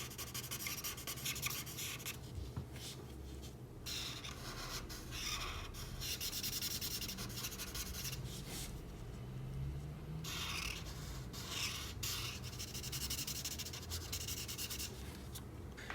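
Colored pencil strokes rub steadily across paper in a quiet, close scratching texture, with short pauses between bursts of coloring and no voice.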